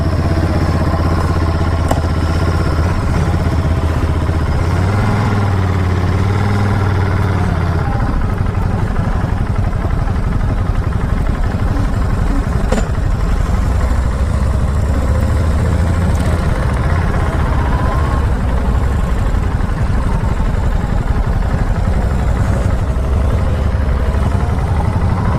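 A 2022 Ducati Monster motorcycle engine runs steadily while riding on twisty roads, a loud continuous low rumble with wind noise, the engine note rising and falling slightly as the bike moves.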